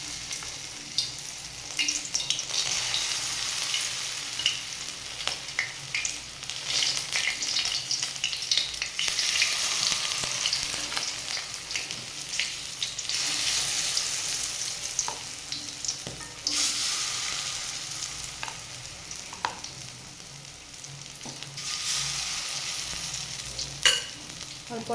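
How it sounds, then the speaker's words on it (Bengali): Fritters of ground masoor dal paste, green peas and thankuni leaves sizzle in hot oil in a kadai, a loud, steady crackle that swells and eases as more batter goes in, with occasional stirring sounds. "অল্প অল্প করে এভাবে দিয়ে বড়াগুলো ভেজে নেব"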